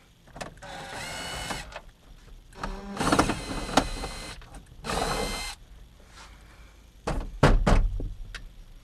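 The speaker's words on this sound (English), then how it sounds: "I'll undo some screws now." Screws come out of a Toyota dashboard panel near the key starter, with several whirring bursts from a powered driver, some a second or more long. Quiet pauses fall between them, and it ends with sharper clicks and rattles, all close up.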